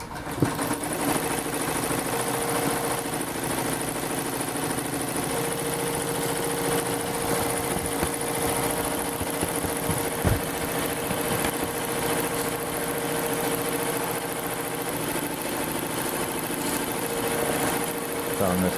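A Blue Sky 1501 sewing machine runs steadily throughout, giving a continuous close mechanical whir with a fast regular stitching rhythm and slight knocking under it.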